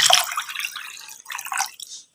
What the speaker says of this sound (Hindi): तो इसमें पानी डाल देते हैं।